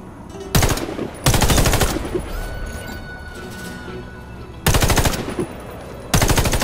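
Loud bursts of automatic gunfire from the video game Warface, fired at a target in two pairs of sustained volleys with quieter gaps of game ambience between them.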